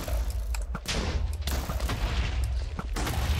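A rapid barrage of booming blasts and gunfire-like bursts, dense and loud, overlapping continuously with sharp impacts throughout.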